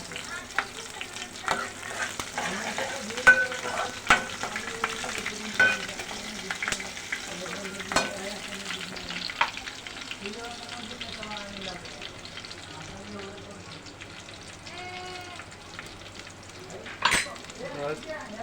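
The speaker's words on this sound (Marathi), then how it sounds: "फ्राय होत आहे दोन तीन पाकळ्या कडी कडीपत्त्याच्या पाकळ्या" Curry leaves fry in hot oil with mustard seeds, garlic and chilli for a Marathi moong dal tempering, a steady sizzle with frequent pops and scraping stirs, sounding close.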